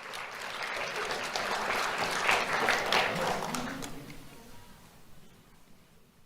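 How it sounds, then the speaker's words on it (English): A crowd applauds for a young award recipient at a community awards ceremony, a steady wash of dense clapping that peaks midway and then thins out and fades toward the end. "Let's have a round of applause for Jackson Abreu."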